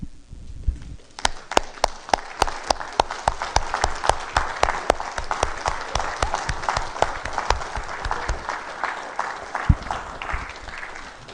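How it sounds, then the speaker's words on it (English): Church congregation applauding for mothers on Mother's Day, sharp, distinct claps in a steady rhythm over a softer wash of clapping, fairly close and continuing for several seconds. "let's give them a hearty round of applause"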